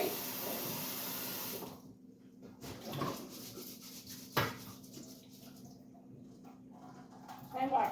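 Tap water runs steadily into a sink while food is washed for homemade soup on a small farm, then eases off into soft splashes and dish clatter, with a sharp knock midway.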